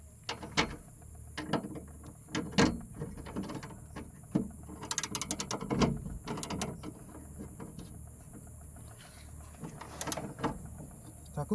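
A DG power cable connection is tightened by hand tool, giving repeated close metallic ratchet clicks and clanks in irregular bursts over a steady low mechanical hum.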